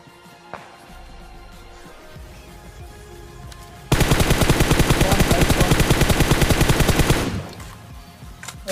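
Rapid automatic gunfire from a battle royale video game, with an AWM sniper involved, bursts in loud and dense for about three seconds over quieter game ambience before cutting back to background noise.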